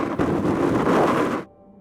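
Violent wind sweeps snow across a high mountain slope, a loud, roaring broadband gust buffeting close for over a second before cutting off abruptly to near quiet.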